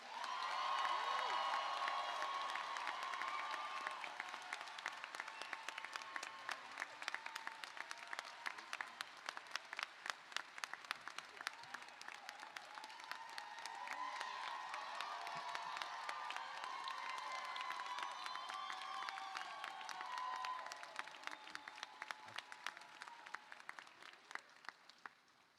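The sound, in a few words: graduates' applause in performing arts center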